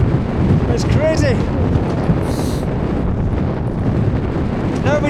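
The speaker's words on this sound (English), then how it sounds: "Look at the wind." Strong wind buffets the microphone on a mountain summit in the Creag Meagaidh hills, a loud continuous roar with occasional voices under it.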